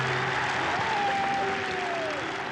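Golf gallery applauding Seve Ballesteros as he nears victory at the Open Championship, a dense, steady wash of clapping from a large crowd, with a faint whistle and scattered calls drifting over it.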